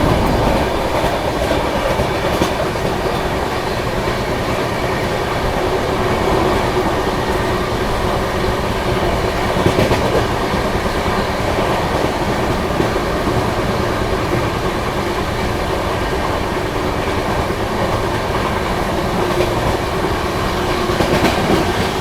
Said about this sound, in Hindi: अपनी ट्रेन कोसी कला रेलवे स्टेशन को स्किप कर रही है